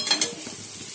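Cauliflower pieces sizzle in hot oil in a pan, a short close crackling hiss with a couple of sharper spatters and stirring sounds at the start.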